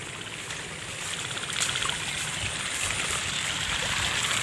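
Water flows steadily through a channel in a paddy field, giving a continuous rushing, trickling wash with no pauses and no voices.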